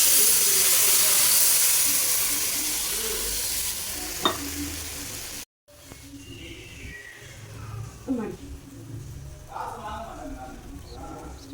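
Rava dosa batter sizzles and hisses loudly on a hot pan, fading after a few seconds. A short gap follows, then quieter cooking noises and scrapes continue while someone talks.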